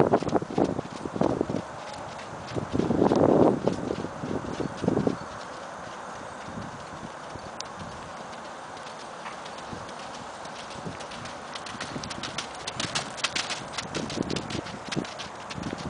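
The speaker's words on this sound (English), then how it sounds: "Then go ahead and ask for a canter." A horse canters under a rider, hooves clip-clopping in rhythmic drumming beats, loudest at first and again near the end as it passes closer, with quieter hoof falls between.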